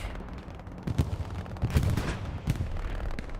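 Artillery rounds, including 105 shells, exploding across a capture point in the World War II game Hell Let Loose during a competitive 49v49 console match; several booming impacts and crackling gunfire come in irregular bursts over a constant battlefield rumble.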